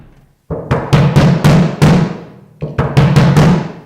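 Rapid, punchy bass drum (kick drum) strikes during tuning, after tension was raised a quarter turn per screw, about a dozen hits in two bursts with short decay, loud and close with no voices.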